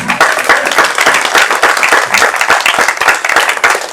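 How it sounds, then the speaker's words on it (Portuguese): A church congregation applauding, loud and close, dense irregular clapping that stays steady throughout without voices. "Você pode aplaudir o Senhor?"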